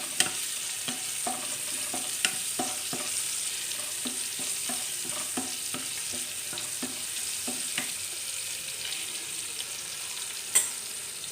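Okra sabzi with turmeric, garlic and mustard is stirred in a pan: a low constant sizzle with repeated light scrapes and taps of a spoon, close and clear.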